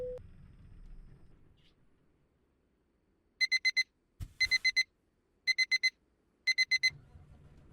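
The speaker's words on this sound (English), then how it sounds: "activating wake-up alarm" An alarm clock rings in a video game trucking setting, sounding in repeated bursts of four rapid beeps with short pauses between, loud and close, with a single thud partway through.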